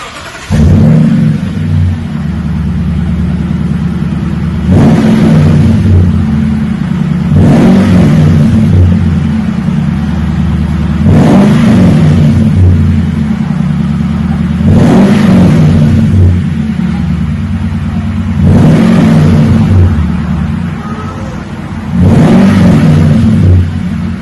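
A 2018 Toyota Tundra with a Flowmaster Super 40 muffler revs repeatedly from idle, six or so sharp throttle blips rising over a steady deep rumble, close and loud with no talking.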